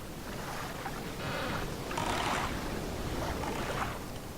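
Water washes and swells in slow surges as a boat sails across ocean waves in The Legend of Zelda: The Wind Waker, with a steady broadband rush rising and falling.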